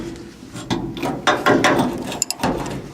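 A ratchet breaks loose carriage bolts on a 1977 C10 truck, giving loud close clicking bursts and clacks in quick irregular runs with brief pauses, and no voices.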